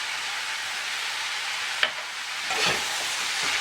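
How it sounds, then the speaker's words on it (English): Roasted cumin, anchar masala and curry powder sizzle steadily in a large pot, with a clink of the spoon and a brief burst of stirring partway through, fairly quiet and with no talking. "Give that a good stir."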